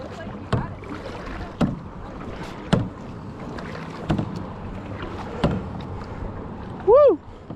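Kayak paddle strokes dip into Lake Tahoe water at a steady rhythm, roughly one soft splash every second and a half, close by over a constant wind-and-water background, with a brief rising whistle-like tone near the end.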